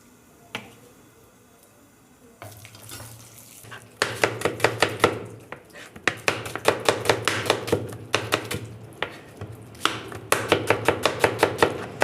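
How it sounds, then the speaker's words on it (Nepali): Knife chopping onions on a board while an egg curry is prepared at home, a fast run of sharp, evenly spaced cuts that speed up into steady rhythmic bursts, close and fairly loud, with a low kitchen hum underneath. "यसरी प्याज काट्ने"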